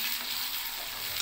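Ginger paste frying with onions in a pan for a kheema fry gives a steady, close, even sizzle with no pauses and no voices.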